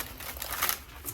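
Tarot deck being shuffled, soft rapid papery riffling and flicking of cards, close and quiet, with no talk.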